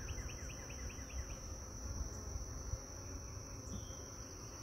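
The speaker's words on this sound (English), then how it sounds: "I don't want to smash all those bees." Dense, steady insect buzzing fills the scene, a constant droning hum with a high whine on top, close and continuous throughout.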